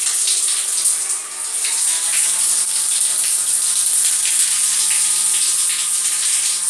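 Steady rushing spray of running water, continuous and close, like a shower head pouring without pause.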